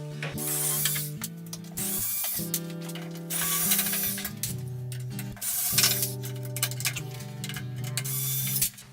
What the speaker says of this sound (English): just unscrew the screws and take it off